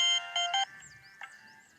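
A mobile phone ringtone rings in a short electronic melody, three bright beeping bursts followed by a quieter tone, close and loud, with no talking over it.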